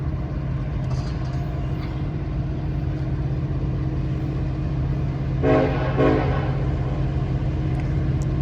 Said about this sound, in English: And we actually had a little bit of horn from them